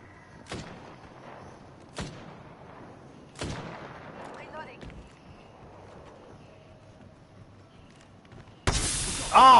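Scattered gunshots in the battle-royale game Apex Legends: three or four sharp single shots spaced a second or two apart, fairly distant, then a loud burst near the end, with voices faintly present.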